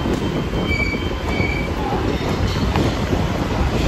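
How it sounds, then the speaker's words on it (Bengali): Metro train pulling into a station platform, a loud continuous rumble of wheels and carriages with faint squealing, close and steady throughout, with no talk over it. "দৌড়াও, ট্রেন ঢুকে গেছে।"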